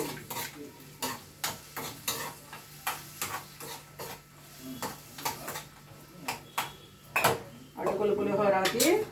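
Tomatoes with salt are stirred in a pan, a spoon scraping and knocking against the metal in a regular rhythm over a low hum of cooking, followed by someone speaking at the end.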